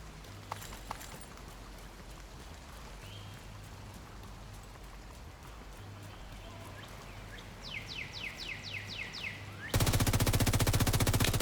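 Rapid bursts of video game gunfire ring out near the end: a quick string of evenly spaced shots, then a loud, dense automatic volley, following a quiet stretch with faint background hum.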